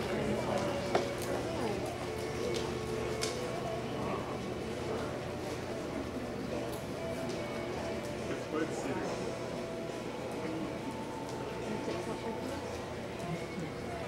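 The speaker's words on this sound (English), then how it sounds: "Please walk your horses, walk." Horses walk with soft, irregular hoof clops on arena footing at a dressage competition, under a steady background murmur of voices.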